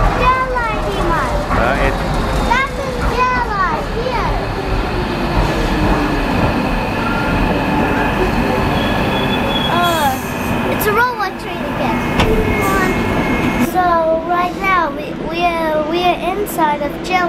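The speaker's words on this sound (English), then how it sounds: "That is DLR, Iman." London DLR driverless light rail train running, a loud, close rumble with rising and falling motor whine and occasional wheel squeal, with a child and an adult talking over it.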